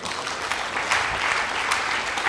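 Congregation clapping during a church sermon as applause offered to God, a brief, even wash of many hands clapping close by, with no pauses.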